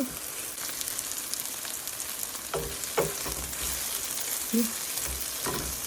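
Eggplant pieces frying in a pan with salt, browning: a steady, even sizzle throughout, with a few soft clinks and stirring knocks near the end.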